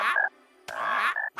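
A cartoon character croaks like a frog in a few loud, rasping bursts separated by short pauses, with no other voices.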